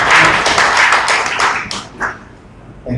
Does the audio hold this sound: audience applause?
yes